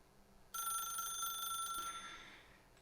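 An old-style telephone bell in the video game The Stanley Parable rings in one continuous bright burst lasting over a second, then cuts off and leaves a fading tail, alone with no voices.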